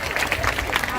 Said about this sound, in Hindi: जोरदार तालियां हर्षिता के लिए।